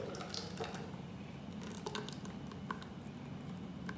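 Ash gourd, radish and soaked cashew puree poured into a cooking vessel, a steady soft wet pattering and squishing with faint drips, quiet and continuous.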